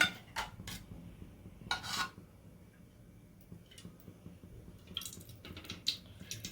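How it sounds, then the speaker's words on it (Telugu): About two tablespoons of cooking oil are poured into a kadai on a stove for a broad beans masala curry, giving soft, quiet drips and faint squishy splashes in short, scattered bursts with near-silent gaps. "స్టవ్ మీద బాండీ పెట్టుకొని 2 టేబుల్ స్పూన్ ఆయిల్ పోసుకుంటున్నా"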